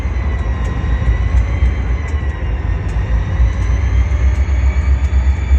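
A CSX diesel locomotive heading back into Rice Yard gives a steady, loud, continuous roar with deep low rumble throughout, close by and with no talk.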